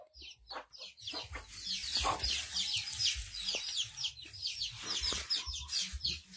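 Chicks and hens clucking and peeping as they are fed rice, with busy overlapping chirps and clucks at close range and some rustling and pecking underneath, no talking.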